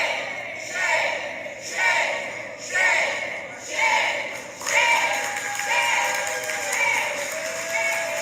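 Large crowd jeering and booing a woman at a political event, loud swelling waves of massed voices rising and falling in a repeated rhythm, with shouted chants rising from the mass.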